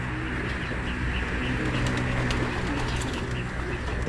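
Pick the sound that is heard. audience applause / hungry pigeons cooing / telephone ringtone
hungry pigeons cooing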